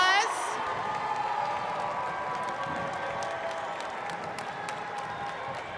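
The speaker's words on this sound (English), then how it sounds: "let's give your friends, your faculty a round of applause" An audience at a college commencement ceremony breaks into sustained applause, a dense wash of clapping with some cheering, starting with a brief voice and continuing steadily throughout.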